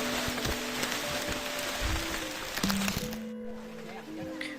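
Rain falls on a mountain trail on Sumatra's highest peak, a dense steady hiss of drops close by, with people talking over it and brief tonal sounds in the mix.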